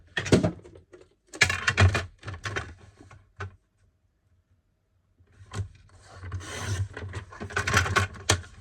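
A paper rectangle being cut by hand for a door decoration, close scraping and snipping strokes in bursts separated by a silent pause, with no talking.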